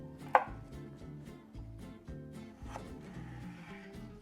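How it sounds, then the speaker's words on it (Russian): A knife chops celery stalks lengthwise on a board, giving a few sharp, close knocks spread unevenly across the clip, with one especially strong cut near the start and quiet stretches between. "Отрежем ненужное и мелко вдоль наслоим"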